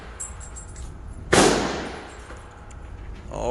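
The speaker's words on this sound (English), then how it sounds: "Put some rounds down range." Glock 23 pistol firing at an outdoor shooting range: one loud, sharp crack near the mic that decays over about a second, with faint metallic clinks before it and no voices.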